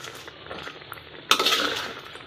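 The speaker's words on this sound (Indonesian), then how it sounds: "Kita aduk, kita biarkan sampai penyedap rasanya masuk ke daging ikannya." A utensil scrapes and clinks against a pan while stirring a tuna curry in coconut milk with torch ginger, a sudden close clatter after a quiet stretch.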